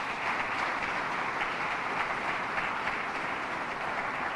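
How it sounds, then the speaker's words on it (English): A crowd at a public safety briefing in Rochester applauds the mayor, steady, moderately distant clapping sustained evenly with no voices over it. "Let's give our great mayor a round of applause."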